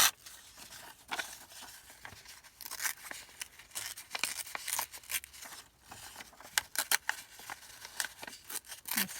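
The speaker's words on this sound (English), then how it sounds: "And so I'm just going to rip" Paper scraps are torn by hand in a series of short ripping and crinkling bursts with small pauses between, close and moderately loud, with no talk.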